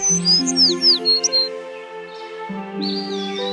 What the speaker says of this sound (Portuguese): De manhã, Branca de Neve acordou com pássaros cantando e muitos animais à sua volta